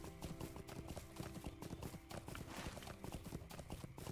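A horse gallops cross-country in the fantasy video game LOTRO, with steady, rapid hoof clip-clops that stay close and continuous throughout, over a low background.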